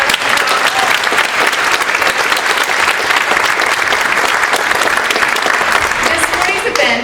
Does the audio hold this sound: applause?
yes